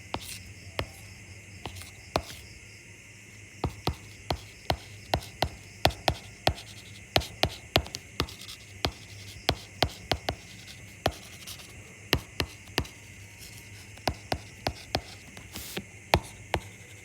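Pen writing notes by hand on paper, a steady run of short scratchy strokes and taps that repeat across the whole stretch, close and fairly clear over a faint hiss.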